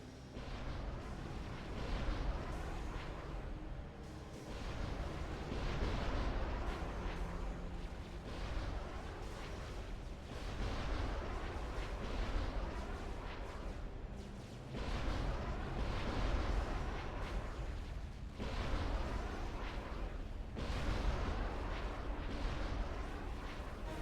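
Sustained artillery barrage in the strategy game Supreme Commander, with heavy shell impacts and booms pounding in rhythmic clusters over a constant thick rumble of battle, loud throughout and with no voices.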